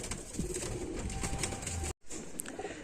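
Rampuri Golden pigeons coo softly and steadily in a loft, a low murmuring flock sound with faint flutters, briefly cut off near the end before resuming.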